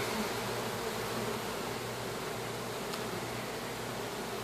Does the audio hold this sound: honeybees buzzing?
yes